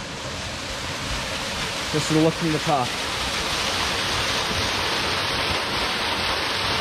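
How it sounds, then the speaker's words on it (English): A waterfall pours into a deep pool in a narrow canyon, a steady, broad rushing roar that fills the whole clip. Someone speaks briefly partway through over the constant water noise. "Narrow canyon, waterfall, and a nice deep hole."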